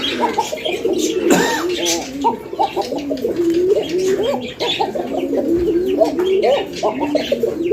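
A pair of bright red Coca fancy pigeons coo steadily in rolling, throaty bursts close by, amid a faint background of other birds and distant chatter.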